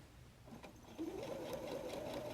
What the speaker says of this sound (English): I am working on the free arm of the sewing machine.